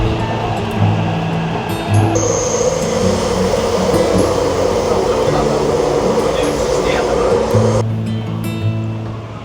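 Steady rumbling hum of a Taipei MRT metro train in a station, with a broad whoosh of air and machinery, loud and continuous, with brief tonal beeps near the start and end.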